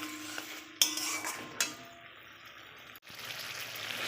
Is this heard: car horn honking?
no